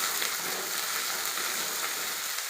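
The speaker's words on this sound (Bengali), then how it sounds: "এভাবে নেড়ে নেব" Spices frying in a pan with ginger and chili paste, stirred steadily, giving a continuous close sizzle that stays even and fairly quiet throughout, with no talking.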